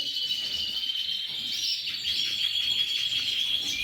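Caged birds in an indoor birdroom keep up continuous high-pitched chirping and trilling, a thin, steady chorus of calls at moderate distance with no voices.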